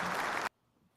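A burst of loud, dense applause from a studio audience for half a second, then it cuts off abruptly into near silence.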